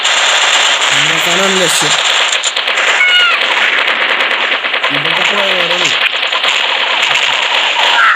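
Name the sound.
bomb explosions and gunfire in Mini Militia video game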